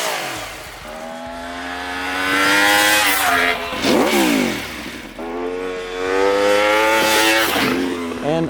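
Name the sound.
Aprilia Tuono 1100 RR V4 motorcycle engine revving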